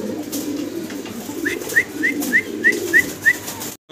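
A magpie pigeon pair at a farm coos in a steady series of short calls, about seven evenly spaced notes, close and clear over a low background rumble.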